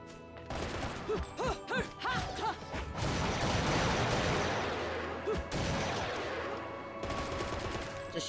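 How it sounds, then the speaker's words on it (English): Gunfire and shotgun blasts in the Bayonetta video game, a rapid series of sharp shots and crashing impacts in close succession, with brief tonal game effects mixed in and a dense burst of fire through the middle. "No comboing, just smack them with gunfire."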